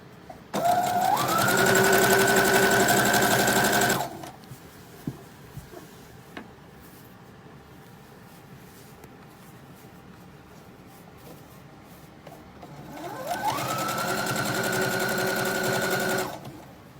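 A sewing machine stitches a cozy fall fabric wrap in two loud, steady runs, the motor whirring up to speed at the start and end with a quiet pause between them.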